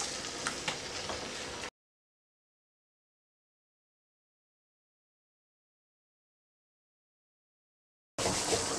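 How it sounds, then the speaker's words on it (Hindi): Marinated chicken sizzles in a hot pan with a soft, steady fry. It is heard briefly at the start and again at the end, with dead silence in between. "इसको गरम करें और अब आपने इसमें मैरिनेट किया हुआ चिकन डाल दें।"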